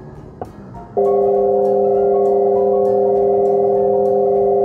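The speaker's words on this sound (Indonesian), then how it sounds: "Ini lebih seperti suara humming mobil bensin konvensional yang sedikit futuristik." A Maxus MIFA 7 EV's low-speed warning sound plays a humming petrol-car-style tone, a lower, steady harmonic drone that cuts in sharply after a faint click and stays loud and unchanging to the end.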